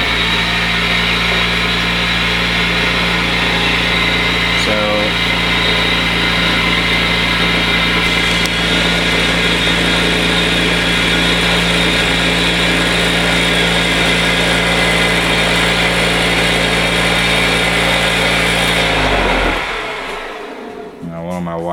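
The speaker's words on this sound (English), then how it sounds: "that would be my asymmetrical motor" A homemade asymmetric scooter motor runs with a loud, steady electric hum and whine that holds constant for about twenty seconds before spinning down near the end.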